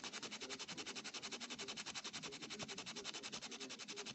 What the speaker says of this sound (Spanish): Se raspa un ratito, hasta que bote ese polvito.